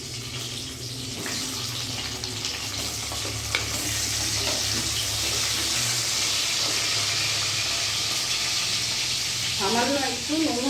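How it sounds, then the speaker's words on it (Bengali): Eggplant slices fry in oil with a steady, close sizzle and hiss, a few clinks of utensils, and a faint spoken voice near the end. "এই তেলের মধ্যে আমি এখন বেগুনগুলো ভেজে নেব।"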